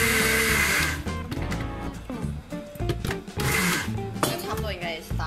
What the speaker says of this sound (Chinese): 盖起来来搅它